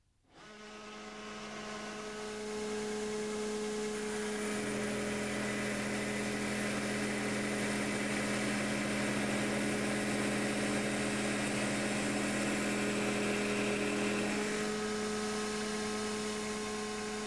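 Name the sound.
Scantool pipe notcher grinding roller notching a pipe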